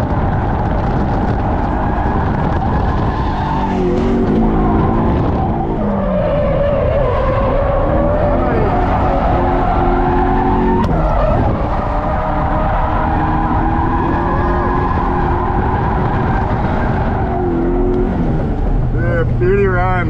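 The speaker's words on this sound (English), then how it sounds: "You're driving like a true Japanese drift with the nice straight note right to the wall." Drift car sliding in a Japanese-style drift run, its engine revving and wavering loudly alongside skidding tire squeal, continuous and close, with people talking over it.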